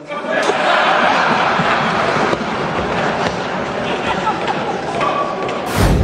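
A large audience clapping hard and steadily at a political gathering, a dense continuous roar of applause that fills the space, with a sharp noise burst at the very end.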